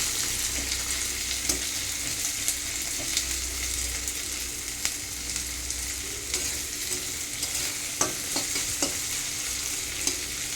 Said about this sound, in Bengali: প্রথমে তেলের পরে পেঁয়াজটা দিয়ে দেবো। পেঁয়াজটা একটু ভালো করে ভেজে